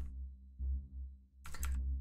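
Computer keyboard keys clatter in a short, dense burst of clicks during a PC session of Grand Theft Auto: Vice City, set against a steady low hum after a quieter stretch.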